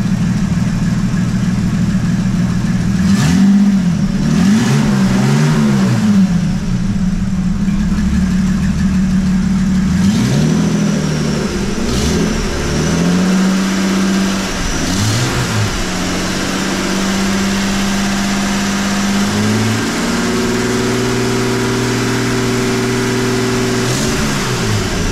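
A 1930 Model A fitted with a V12 engine and open exhaust with quick-throw cutouts revs repeatedly, its loud, close, throaty idle climbing and dropping in pitch through a series of blips before settling into a steadier rumble.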